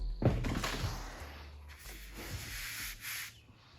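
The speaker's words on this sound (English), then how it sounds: "There's just something about that first cut on an expensive sheet of plywood that I hate" A saw makes the first cut into an expensive plywood sheet with a loud, close rasping that rises and falls over a few seconds.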